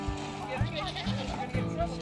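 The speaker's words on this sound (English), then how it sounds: "We're about to hang out with some goats." Goats bleat in short repeated calls on a foggy ranch, several quick cries spaced apart, while people talk nearby.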